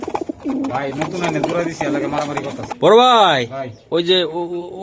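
Racer pigeons coo in a couple of deep, rolling bursts, close by, while people talk over and between the calls.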